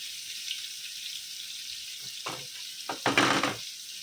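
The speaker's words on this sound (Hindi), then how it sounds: "पाँच 5 मिनट अलट पलट करके फ्राई करेंगे इसको।" Chicken tandoori tikka pieces fry in a pan with a soft background sizzle, then a few short bursts of louder spattering and stirring near the end, close and fairly quiet.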